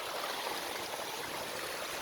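Stream water flows down from the hills at a waterfall in the Andhra agency forest area, giving a steady, broad rushing wash close by with no let-up and no talking.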